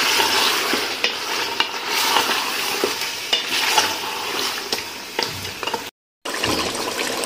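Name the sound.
sautéing mutton with yogurt in a pot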